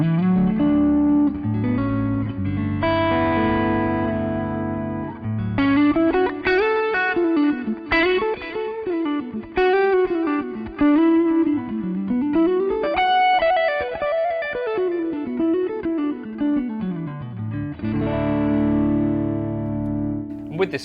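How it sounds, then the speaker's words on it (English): An electric guitar plays through a Boss Katana amp set to a Matchless-type tone, with sustained chords opening and closing around a melodic single-note line, carrying delay and reverb. "This is a matchless type tone."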